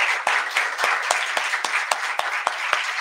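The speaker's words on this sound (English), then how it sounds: "A big round of applause for them." A crowd claps steadily in an even rhythm, a moderate round of applause with no voices over it.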